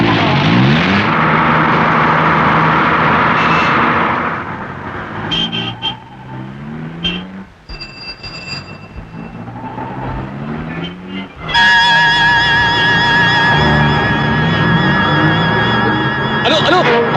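A car engine drones loudly while it drives in a Malayalam film scene, swelling at the start and again near the end, with voices and other noise over it in between.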